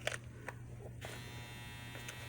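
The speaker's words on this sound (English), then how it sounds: "there goes the dryer again." A running clothes dryer hums steadily with a low electric drone and buzzing motor tone, faint and constant, with a couple of light knocks near the start.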